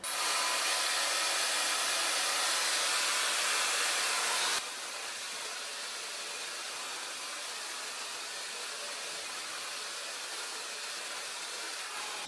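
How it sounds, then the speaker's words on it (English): Luxx Air Pro 2 hair styler with curling barrel blowing on heat and fan setting two, a loud steady rushing hiss that drops abruptly to a softer continuous airflow partway through. "So I'm going to put it on second setting heat,"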